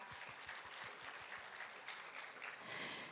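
An audience at a carbon-neutrality conference opening ceremony claps, a soft, distant patter of applause lasting a few seconds with no voices.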